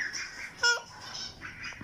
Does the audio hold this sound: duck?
yes